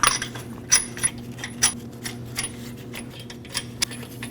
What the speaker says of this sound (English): Now we can go ahead and install the lug nuts by hand.